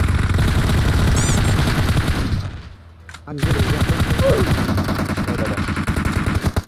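Automatic gunfire from a teammate rattles in rapid, dense bursts during a PUBG Mobile match. It stops briefly, then resumes just as heavily while players talk and exclaim over it.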